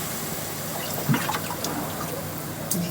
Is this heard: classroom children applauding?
no